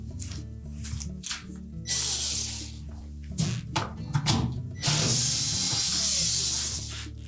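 A ratchet removes the 5/16 hex head screws securing the belt shield on a Whirlpool washer, giving short clicking ratchet bursts and metallic rubbing, with a longer hissing scrape toward the end.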